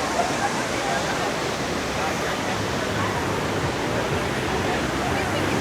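FlowRider surf wave machine at the Planet Hollywood Cancun all-inclusive resort, its water rushing in a steady, dense roar that stays constant and close throughout.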